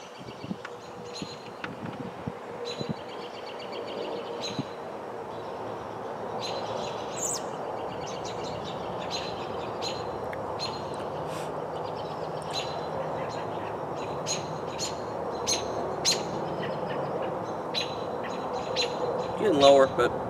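Birds chirp and tweet outdoors in short, scattered calls in the background, faint and continuous under a soft broadband hum of wind or distant traffic while a person talks.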